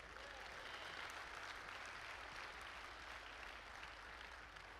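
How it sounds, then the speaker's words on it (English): An audience applauds steadily throughout, a dense, even wash of many hands clapping at a moderate distance, with no voices standing out. "So y'all are clapping."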